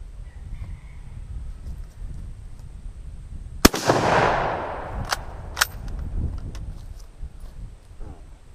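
A single loud, sharp shot from a Terni Carcano rifle chambered in 6.5x52mm, fired outdoors, with a bright crack followed by a rolling echo that fades over a couple of seconds, then a few faint clicks.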